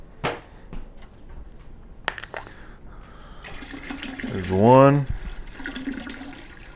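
Distilled water poured from gallon jugs into a brewing pot, a tap-like gushing stream that rises in pitch as the vessel fills, preceded by a few clunks and handling knocks, with someone speaking briefly.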